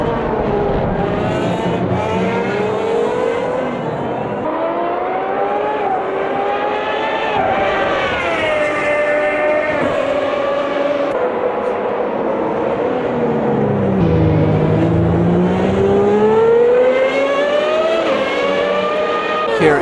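A Gen 1 HiTech F1 race car engine at Interlagos in Automobilista 2 screams through rising and falling revs over sustained whining harmonics, loud and close, with another car's engine passing nearby and no talk.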